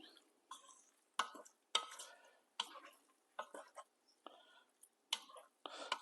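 Ginger garlic mixture stirred in a pan, a series of quiet scraping strokes in an uneven rhythm, each a short faint burst separated by near silence.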